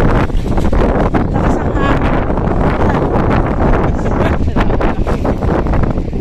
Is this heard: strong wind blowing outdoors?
yes